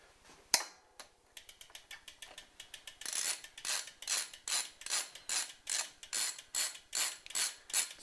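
A ratchet tool loosening bicycle crank bolts anti-clockwise, first a sharp crack and scattered quick clicks, then a steady run of loud, evenly spaced ratcheting bursts about twice a second, close and alone.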